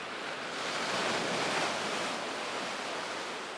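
Ocean waves break on an open-sea shore in a steady, loud rush of surf that swells and eases over a few seconds, with no voices.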